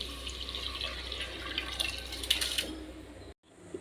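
Soaked rice and its soaking water, one glass of rice to two of water, poured into a cooking pot for pulao: a steady close splashing pour lasting about three seconds, then abrupt silence.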